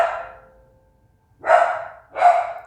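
A dog barks three times indoors, one bark followed by a pause and then two quick close barks in succession, fairly loud against a quiet room.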